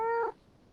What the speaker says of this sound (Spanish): el gatito le dice hola también